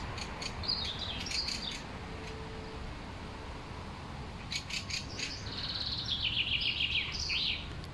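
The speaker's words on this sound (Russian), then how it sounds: "Боже, как классно поют птички." Birds singing outdoors, bright chirping phrases in two bursts at the start and near the end over a steady hiss of insects and open-air background, with no talking.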